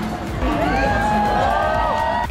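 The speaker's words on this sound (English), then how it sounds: "The crowds are starting to come already." A crowd of people gathers and shouts, a lively babble of many voices with excited cheers rising over steady background noise throughout.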